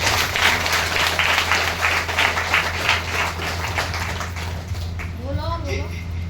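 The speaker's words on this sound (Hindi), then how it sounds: "जोरदार तालियां परमेश्वर के लिए।" A church congregation applauds during a worship gathering, a burst of dense clapping that fades after a few seconds as a voice speaks over it.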